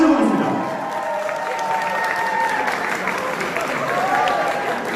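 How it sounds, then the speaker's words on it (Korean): Wedding guests in a hall applaud a singer introduced to perform the wedding song, producing steady, dense applause with crowd noise and a voice speaking over it. "가수 이사람 분을 여러분들 큰 박수를 보내"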